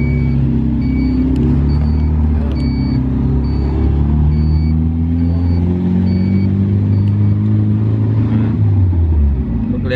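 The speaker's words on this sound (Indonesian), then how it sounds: "Mobil klasik ya seperti ini suaranya." A classic Toyota Corolla's engine drones loudly from inside the car while driving on a village road toward the mountains, a steady low rumble with shifting engine tones that eases off near the end.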